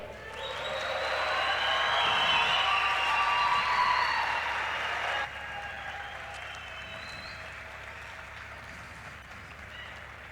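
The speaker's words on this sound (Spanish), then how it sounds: "Les pido un fuerte aplauso." Audience applause greets athlete Donovan Carrillo at an event in León, Mexico, a sustained wash of clapping that swells, holds, then drops abruptly to a softer, thinner patter.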